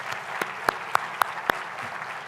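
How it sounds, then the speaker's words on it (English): An audience in a plenary hall at a World Bank–IMF meeting applauds, producing a steady broad patter of clapping with several sharper, louder claps standing out nearby. "he deserves a round of applause from all of us"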